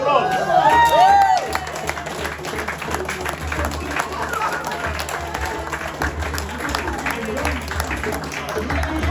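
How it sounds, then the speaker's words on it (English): An audience at a playback theatre show applauds and cheers loudly for a few seconds, then the clapping thins into a lingering crowd murmur with a voice speaking over it. "Give him a round of applause."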